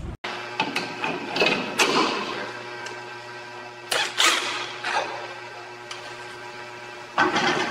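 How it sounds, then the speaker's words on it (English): Metallic clanks and ratcheting clicks from driving a threaded bolt with a washer into a sunken F-4 Phantom II wreck, a series of sharp close knocks separated by short quiet gaps. "Threading bolt. Washer ready. Driving."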